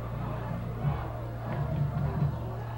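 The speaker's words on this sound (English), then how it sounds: "Can really hear the Basha Bears fans trying to cheer them on and encourage them to win." Basha Bears fans at a high school football game cheering, a distant, low crowd roar with a few swelling yells, steady and fairly faint over a low hum.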